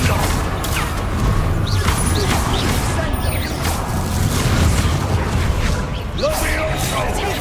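Magic blasts and crashing impacts from the Confringo spell in Hogwarts Legacy, with repeated loud bursts and whooshes over constant game noise while a voice talks throughout.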